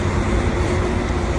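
A train at Kleve station, heard early in the morning as a steady low rumble with a broad, even noise that holds for the whole short stretch. No one speaks over it.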